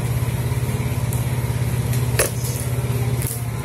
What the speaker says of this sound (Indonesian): suara videonya terhalang oleh suara sepeda motor